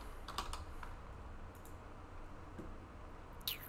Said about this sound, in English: Let me type in those coordinates,